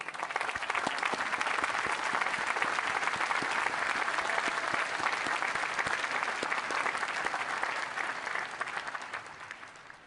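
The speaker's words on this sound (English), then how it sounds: "Join me in applauding these people." A large graduation audience applauds award winners at a university degree ceremony, dense sustained clapping that stays loud and even for the whole stretch.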